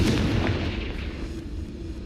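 A Confringo spell erupts in Hogwarts Legacy with a heavy, muffled explosion at the start that fades into a lingering low rumble, with no voices over it.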